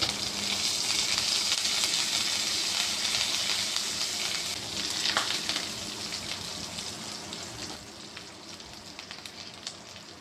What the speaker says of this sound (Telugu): ఇప్పుడు కరివేపాకు వేసి వేయించుకుందాం.